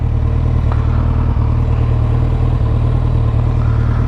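A 2008 Suzuki Hayabusa engine idles steadily after sitting unused for over a year, a close, loud, even mechanical hum with light clatter and no talk.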